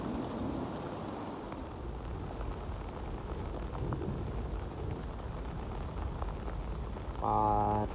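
Heavy rain pours steadily during a windy storm, a dense continuous wash of drops with low rumbling underneath and a brief louder burst near the end.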